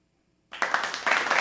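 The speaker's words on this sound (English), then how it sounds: "Do we have a applause? I think we have an applause there." A short canned applause effect plays on a financial-news talk show. It starts after a beat of silence, runs as a bright burst of clapping for about a second with two swells, then cuts off abruptly.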